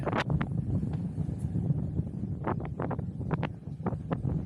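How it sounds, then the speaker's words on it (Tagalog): Steady wind roars and buffets across the whole clip while a plane is flown, with scattered sharp rustles and brief bursts rising above the constant low rumble. "Ang lakas pa ng hangin yan"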